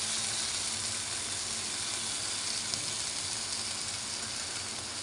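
Chicken soup ingredients such as ginger sautéing in a pan, a steady close sizzle and hiss throughout with no talk over it.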